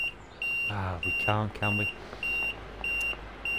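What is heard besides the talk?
buzzer sounding in Class 323 train, Train Sim World 5 video game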